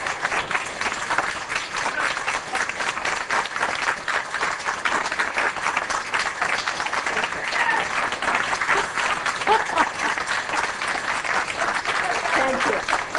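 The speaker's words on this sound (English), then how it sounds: "applause till the end." An audience applauds continuously, dense clapping from many hands at a steady moderate level throughout, with no pauses.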